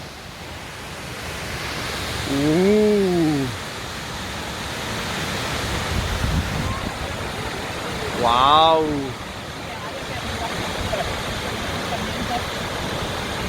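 The Salton waterfall near Lamon roars as a steady, broad rush of falling water, loud and constant throughout, while a voice briefly exclaims twice over it.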